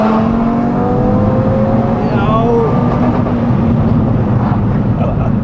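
A Stage 2 tuned Audi RS3 engine revs hard and loud up toward its raised rev limit, the rising whine climbing steadily, heard close and continuous with a voice over it.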